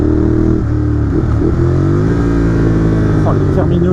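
Ducati Monster 821 with Termignoni exhaust accelerating on the road, loud throaty engine note rising and shifting through revs, close and continuous with wind rush, a rider talking over it.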